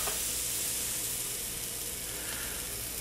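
Blueberry waffle batter sizzles in a hot waffle iron with a steady, loud, close hiss that stays constant throughout.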